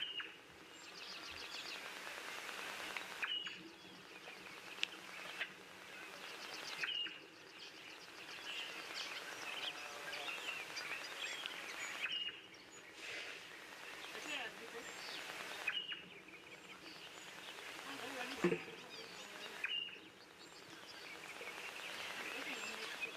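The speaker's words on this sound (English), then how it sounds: "You can kind of hear little chirpings of birds." Small birds chirp faintly and at a distance in a quiet natural setting, their thin calls scattered and indistinct over a soft steady background hush, with occasional louder rustles.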